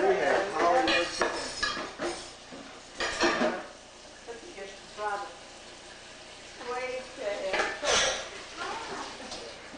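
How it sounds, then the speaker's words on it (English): Dishes are washed by hand at a 1986 Hanukkah home gathering: scattered clinks and clatters of plates and cutlery come in bursts, with running water faint underneath and people talking and laughing nearby. "My sister and my wife washing dishes"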